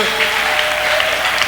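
Church congregation at a Christian convention breaking into loud, sustained applause as a preacher steps forward, a dense unbroken roar of many clapping hands.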